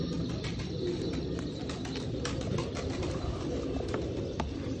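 Sialkoti pigeons kept by a breeder in Gujrat coo steadily at moderate distance over constant background noise, with scattered chirps and faint wing flutters.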